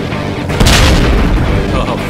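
An explosion in the video game Ride to Hell, a loud, dense boom that swells after half a second and rumbles on with crackling debris noise for the rest of the moment.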